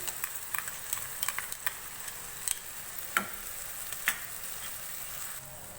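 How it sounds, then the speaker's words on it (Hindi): Steady sizzling of minced chicken frying with garlic-ginger paste in a hot pan on high flame, with scattered scraping and clinking from a spoon stirring, close and without talk. "दो से 3 मिनट लहसुन अदरक के साथ कीमे को हाई फ्लेम पे भूनेंगे।"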